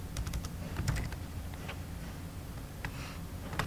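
Quiet keystrokes on a computer keyboard tap out a short question, with irregular clusters of soft clicks over a low background hum and no talk.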